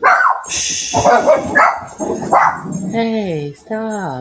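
Dogs barking and yipping close by, some with rising whine-like barks, mixed with a person talking over them.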